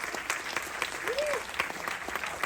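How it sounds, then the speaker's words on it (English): At a short film festival Q&A, the audience applauds the filmmakers in a steady, moderate wash of many hands clapping, fairly distant and even throughout, with a faint voice briefly rising in the middle. "a last round of applause for our filmmakers."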